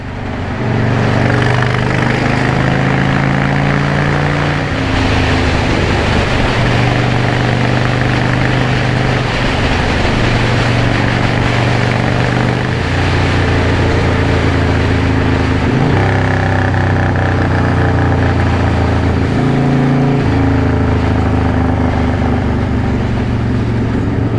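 A 1996 Harley-Davidson FLSTF Fat Boy rumbles loud and close while riding, a deep continuous engine drone whose pitch rises and falls in steps as the throttle and gears change over about twenty-four seconds.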